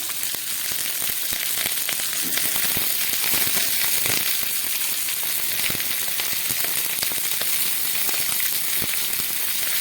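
Nigella seeds crackle and sizzle steadily in hot oil for a vegetable mustard curry, a dense continuous frying hiss with fine pops throughout, close and fairly loud with no talking.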